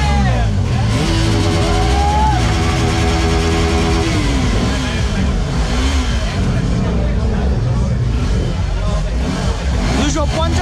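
A Suzuki Gixxer SF 250 motorcycle engine revs at a launch event in Mymensingh, with rising and falling pitch sweeps over a loud, steady crowd hubbub and nearby voices.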